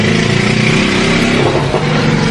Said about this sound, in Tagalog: Ang daming mga nakapark na sasakyan dito, pabalik-balik.